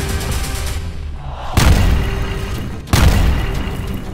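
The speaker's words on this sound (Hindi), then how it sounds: "एक तरफ गाजा पर बमबारी हो रही है" Two heavy booms from bombing in Gaza land about a second and a half apart over a rumbling backdrop, each blast sharp and loud and trailing into a long roar.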